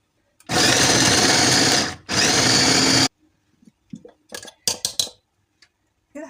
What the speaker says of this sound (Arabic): وهضرب ده كده في الكبه